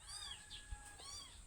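A small kitten mewing in a yard among hens, giving a couple of thin, rising and falling cries at fairly low volume with no talking over them.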